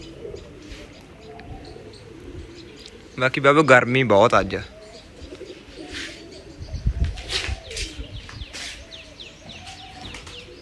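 Pigeons at a home loft coo softly amid a short burst of wing flapping, with someone talking throughout and other faint background sounds.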